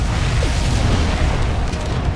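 Tomahawk missile warheads explode in C&C Generals Zero Hour, a loud, dense rumble of booming blasts that stays heavy and continuous for a couple of seconds.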